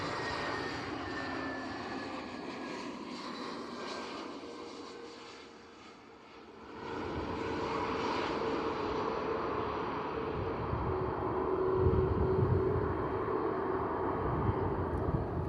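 An airliner landing on runway 27 at Bristol Airport roars steadily with jet engine noise, dipping briefly and then swelling louder and closer, with some wind buffeting the microphone.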